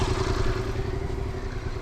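Motorcycle ridden by a learner rider on a training course, a steady mid-pitched engine drone running continuously up close with slight clattering and no pauses.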